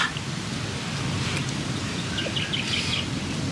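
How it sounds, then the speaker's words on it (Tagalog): Steady rain hisses outdoors, a soft even wash of noise, with faint birds calling in the distance. "umuulan pa rin po dito sa amin"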